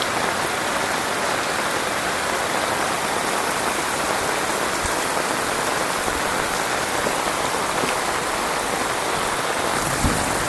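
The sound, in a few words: flood water flowing along a road like a river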